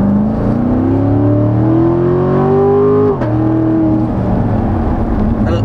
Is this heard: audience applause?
no